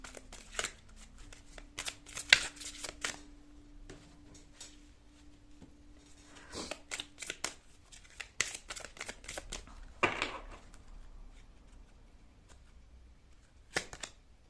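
Tarot cards shuffled by hand in a pick-a-card reading, several quick riffling and slapping bursts spread through the stretch, close and crisp with quiet pauses between, no talking.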